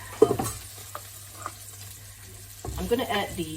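Onions, garlic and shallots hitting a hot pan for a creamy garlic salmon dish, giving a soft sizzle with scattered clinks and stirring scrapes; the sizzle swells near the end of the short stretch, with no talk.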